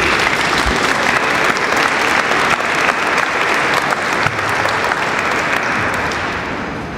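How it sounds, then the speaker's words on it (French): Warm, continuous applause from a crowd inside a church during a centenary celebration of the building, full and even for about seven seconds and easing slightly toward the end. "on peut l'applaudir quand même"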